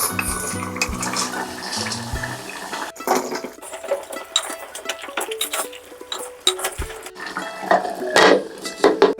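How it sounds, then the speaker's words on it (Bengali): Mutton being stirred and mixed with spices in a pot for a Bengali handi mutton, with clinks and scrapes of a spoon against metal and dish clatter, some steady tonal background at the start, continuous and fairly close. "এবার মাংসটা মিনিট পনেরো খুব ভালো করে নেড়ে চেড়ে ফুটে আসলে আগে থেকে কেটে রাখা আলুগুলো দিয়ে আরও কিছুক্ষণ মশলার সাথে মিশিয়ে"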